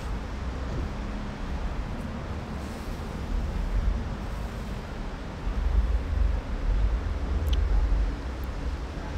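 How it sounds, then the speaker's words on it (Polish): Riding aboard a tram: a broad, steady rumble with low-frequency swells and faint rattles, continuous and enveloping with no talk. "Tramwaj."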